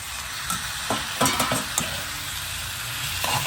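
Spices sizzle steadily while being stirred in a pan for a drumstick curry, with scattered scrapes and clinks of the spoon against the pan, close and moderately quiet, with no speech.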